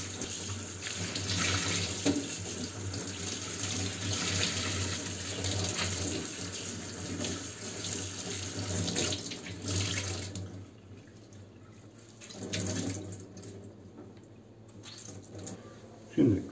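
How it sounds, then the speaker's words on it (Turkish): Tap water runs into a kitchen sink as a cleaning cloth is rinsed, a steady close splashing stream that breaks off briefly near the end and then resumes, with a voice talking at times. "Bezimizi tekrar yıkıyoruz. Şimdi durulayacağım."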